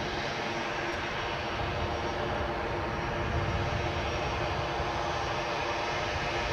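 An Edelweiss Air airliner departing on the runway at Edinburgh Airport, a loud, steady jet engine roar that holds throughout with no break.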